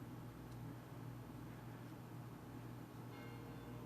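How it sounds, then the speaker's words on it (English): Church bells ring at a distance, faint and steady beneath a wash of background noise, continuing unbroken throughout. "there goes the bells"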